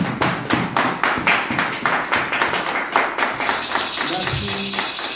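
Church congregation clapping in rhythmic unison, a steady series of sharp hand claps that fills the room, then giving way to a sung or held tone at the end.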